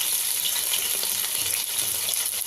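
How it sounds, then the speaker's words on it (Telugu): Loud, steady, hissing sizzle of food frying in a pan, constant throughout with no pauses and no talking. "ఇప్పుడు దీన్ని ఫ్రై చేసుకుందాం."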